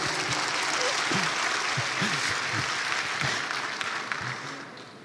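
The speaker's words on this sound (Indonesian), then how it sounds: "Berikan aplaus untuk kita semua." A large audience at an Indonesian religious lecture on business success breaks into dense, sustained applause that stays loud and steady for several seconds, then begins to thin out, with a voice heard faintly underneath the clapping.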